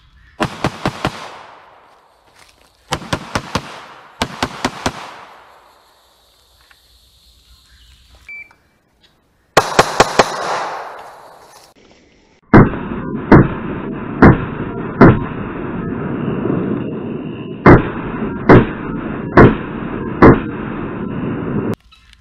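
Gunshots fired during a timed shooting drill: sharp, loud cracks in quick bursts of two or three at first, then a steady string of single shots at even intervals, with no talk.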